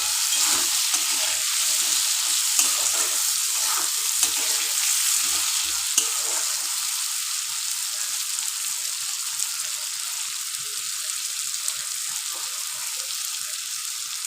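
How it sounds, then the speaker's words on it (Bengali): Mustard-paste masala for jackfruit seed curry frying in a pan, giving a steady, loud, close hiss and sizzle that runs the whole time, with faint stirring scrapes and no talk. "এবারে এইটা খুব ভালো করে ভাজতে হবে।"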